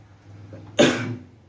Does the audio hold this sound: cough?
yes